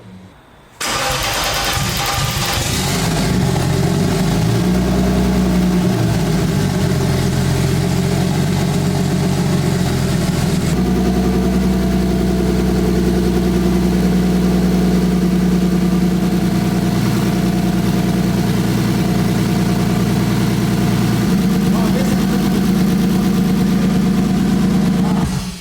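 A forged turbocharged BMW M50 engine in an E30 cranks and fires, then idles loud and close with a rough, uneven rumble that sags as if about to stall, shifting in tone partway through.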